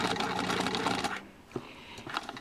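A sewing machine stitching fabric for a baby top and diaper cover, a dense, steady run of rapid stitching that stops abruptly midway, followed by a few quiet clicks and a brief burst as it starts again.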